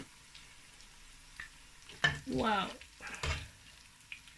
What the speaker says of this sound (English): So I'm going to scoop it out now and then fry the beef.